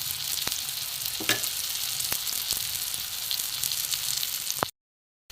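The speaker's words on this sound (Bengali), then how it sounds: "এবার এ পিঠটা হবে একদম লাল করে ভাজবো একটু তেল দিয়ে দিই" A fish omelette fries in oil with a steady, close sizzle broken by a few clicks and taps of a utensil, then cuts to silence near the end.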